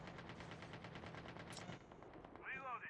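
Rapid automatic gunfire from an AK-47 in Call of Duty Mobile battle royale rattles in dense bursts, with a brief pause and a later whooshing effect, while players talk over it.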